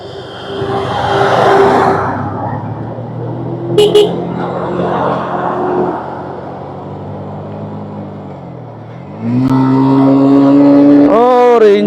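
A vehicle engine grinds in first gear down a steep mountain road to Keokradong, a steady loud droning hum with a brief spike, then a dip and a rising, straining whine near the end.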